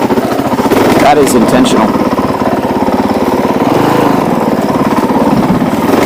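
A Honda CRF450L motorcycle engine runs loud and close in a steady, rapid thrum with small swells of throttle, while someone speaks briefly over it.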